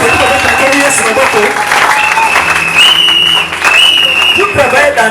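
A church congregation applauds to acclaim the Lord, with loud sustained clapping, cheering voices and a whistle-like tone rising through the crowd noise over several seconds.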